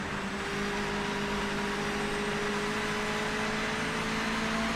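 A race car in Project Motor Racing hums steadily with a flat, static-like hiss laid over the engine drone, constant and fairly loud throughout with no talking.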